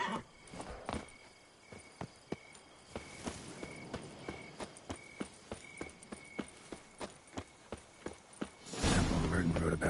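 Hoofbeats of the horse Roach in The Witcher video game, a steady clip-clop of close footfalls through most of the stretch, ending in a sudden louder rush of noise.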